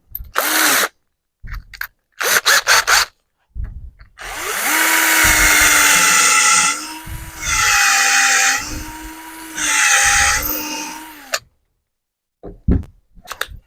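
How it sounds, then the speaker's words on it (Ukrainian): A power drill whirs through ash wood in three long bursts, loud and close, with short pauses and brief clattering before and after. "під конформатором потрібно свердло на 4"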